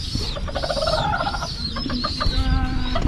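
Chickens cluck and squawk close by in a busy, continuous chatter, several birds calling over one another.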